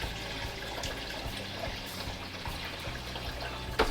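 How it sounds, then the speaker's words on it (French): Tap water running steadily into a container for homemade aronia wine, a soft continuous trickle with a faint rhythmic pulsing beneath it and a small knock near the end. "on se prend de l'eau du robinet"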